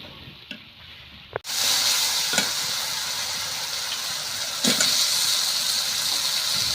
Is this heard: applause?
no